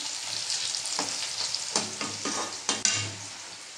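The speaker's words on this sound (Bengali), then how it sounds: "ততক্ষণ আমি তেলটা একটু খুন্তি দিয়ে নেড়ে নিচ্ছি।" Hot oil sizzles in a kadai as a spatula stirs it, a close steady hiss punctuated by a few distinct scraping strokes and a sharp metallic knock near the end.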